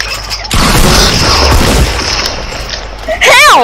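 Tactical shotgun blasts in the Playground video game, a loud booming shot followed by a sustained crashing burst, then a second sharp report near the end, with no voices.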